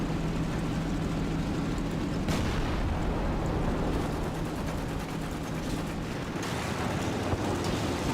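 Tank cannon fire from a Matilda Mk.II in War Thunder, a heavy booming blast near the midpoint standing out over a dense, continuous roar of engine and battlefield noise.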